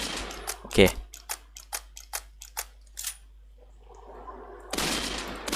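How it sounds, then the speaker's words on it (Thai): Gunfire in the Roblox game Dead Rails, heard as a rapid series of sharp, evenly spaced shots. A louder blast comes near the start and a voice talks over the end. "มันอยู่ข้างในใช่ไหมเราก็ยิงจากตรงนี้ไปเลยอืตายซะ"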